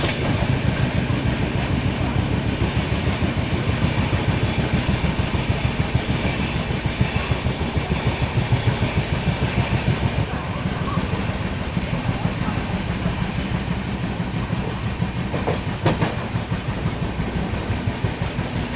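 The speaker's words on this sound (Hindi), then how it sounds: "डिपार्चर ले रही है गाजियाबाद जंक्शन से ये।" A Duronto Express train pulls out of Ghaziabad Junction with a continuous loud, close rumble and a rapid, steady clatter of wheels over the rails that carries on throughout.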